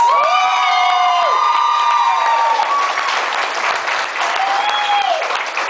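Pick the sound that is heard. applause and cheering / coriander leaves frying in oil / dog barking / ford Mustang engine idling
applause and cheering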